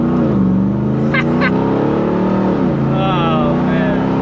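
A Ram TRX pickup's supercharged engine accelerates in sport mode, a loud, close rising roar heard from inside the cab, with a voice talking over it.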